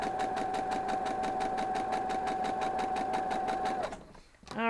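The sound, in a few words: sewing machine stitching quilt block fabric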